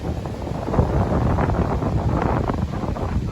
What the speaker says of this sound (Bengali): বালু ঝড় বইছে।